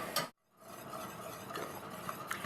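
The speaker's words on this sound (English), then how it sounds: "So we're whisking like this" Whisking flour and butter together in a pan for a white sauce, a soft, continuous scraping and swishing with faint metallic ticks, quiet and close, after a brief pause near the start.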